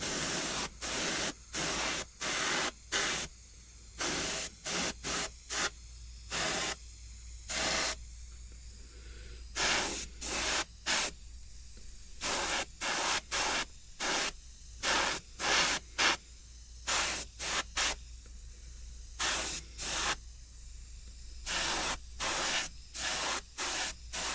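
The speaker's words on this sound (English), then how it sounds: "I work with about a 3/4 overlap on spray." Paint spray gun spraying in repeated bursts, loud hissing blasts of varying length separated by short pauses, alone and close.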